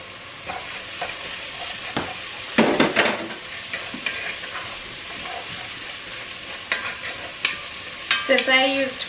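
Frozen peppers and onions cook in a Dutch oven with a quiet background sizzle, broken by several sharp utensil scrapes and stirring clatters and a brief metallic ring near the end.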